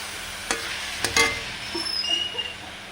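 Vegetarian cabbage curry being stirred in a pan: a few sharp scrapes and clinks of the spoon against the pan, then a soft sizzle with light crackles, close and fairly clear.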